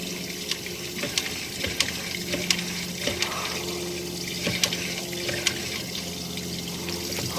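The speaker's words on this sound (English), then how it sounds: "so that's getting rinsed off good there now with our camera lens" Water rushes and splashes steadily over a sewer inspection camera lens inside a residential sewer line, a continuous close wash with small clicks and knocks.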